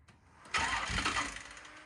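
A car engine, just fitted with a repaired carburetor and fuel system, cranks briefly and then catches with a sudden loud roar that holds steady for about a second and a half, no talking.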